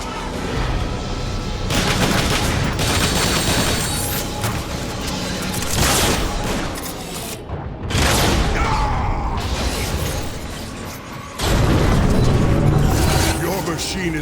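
Gunfire from a Transformers: War for Cybertron battle, with repeated loud bursts and mechanical clanks over a dense game soundtrack while voices talk.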